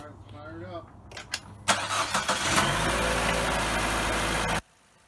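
Chevy Cruze engine cranking and starting after valve cover replacement, a brief whirring crank then a catch into a steady, loud idle that cuts off abruptly near the end, with a voice talking beforehand.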